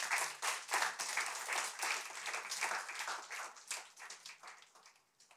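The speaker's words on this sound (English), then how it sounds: "Let's give these dads a round of applause." An audience, children among them, applauds the dads in a hall with sustained, dense clapping that swells early and gradually tapers off.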